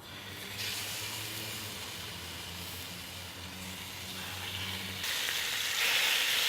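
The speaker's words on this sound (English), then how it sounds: "we're just gonna sear these up." Salt-and-peppered chicken thighs sear in a Dutch oven, giving a steady close hiss of frying that swells louder toward the end.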